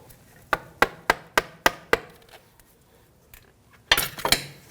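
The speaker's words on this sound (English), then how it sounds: "Just give it a tap with a hammer." A hammer strikes a steering rack boot clamp on a 2001-2009 Volvo S60 with six sharp, evenly spaced metallic taps, a pause, then a few more quick blows, close and loud.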